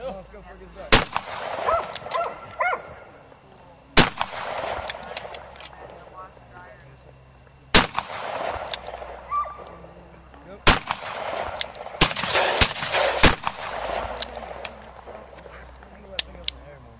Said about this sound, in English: the 45 and 357 Magnum he's shooting now